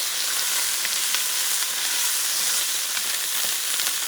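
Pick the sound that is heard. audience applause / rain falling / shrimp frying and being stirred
shrimp frying and being stirred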